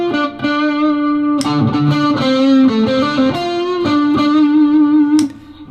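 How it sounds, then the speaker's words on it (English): An electric guitar plays through an overdrive pedal, loud and sustained, with gritty, saturated chords and notes ringing and changing over several seconds before the last chord cuts off. "So here I am in overdrive."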